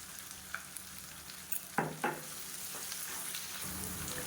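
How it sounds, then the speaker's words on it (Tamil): Onions with garlic sauté in a pan for okra kara kuzhambu, a steady soft sizzle under a few sharp stirring scrapes and taps against the pan. "வெங்காயம் நல்லா வதங்கிடுச்சு"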